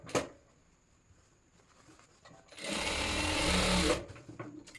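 A sewing machine stitching a formal pant pocket. Comes as a steady, close mechanical whir lasting over a second, after a quieter stretch with handling sounds, and there is no talking.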